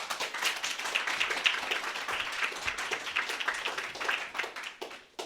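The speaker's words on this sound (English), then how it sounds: "Everybody, please clap for Damon Jones." A small audience claps for a speaker, with a moderate, uneven patter of hands that rises and falls in loudness throughout.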